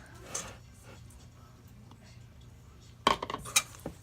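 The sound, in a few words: stirring vegan pumpkin pie dough in a bowl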